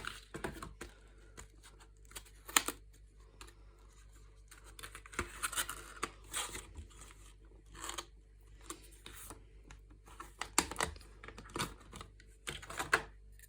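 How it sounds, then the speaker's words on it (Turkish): Cardboard packaging for a Corsair Vengeance RGB RS DDR4 RAM kit is handled and opened up close, with quiet tapping, rubbing and clicking sounds in scattered bursts against near silence. "Şöyle bu kutusunu açalım"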